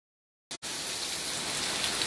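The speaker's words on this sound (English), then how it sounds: "There's some heavy rain today." Heavy rain pours down steadily, a dense, loud hiss of drops on surfaces that starts abruptly after a brief silence and continues unbroken with no talk.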